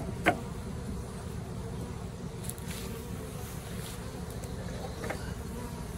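Honey bees hum steadily around an open hive during an inspection that reveals queen cells ahead of swarming, a constant low buzzing drone with a few brief faint sounds of handling on top and no talk.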